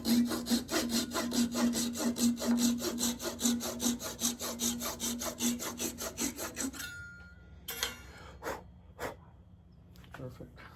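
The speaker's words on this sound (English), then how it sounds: "Pull saw for the rest of the way" A hand pull saw cuts through a wooden shift knob being turned for a 1973 Datsun 240Z, with about thirteen quick rhythmic rasping strokes, close and loud, then stopping, followed by a few scattered knocks and handling sounds.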